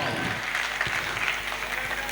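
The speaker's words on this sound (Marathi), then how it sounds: "जरा जोरदार टाळ्या जरा झाल्या पाहिजेत।" Audience applause at a school annual function, dense and steady clapping from a crowd throughout, fairly loud and continuous with no pauses.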